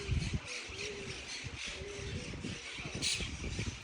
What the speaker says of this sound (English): Crazy noisy birds.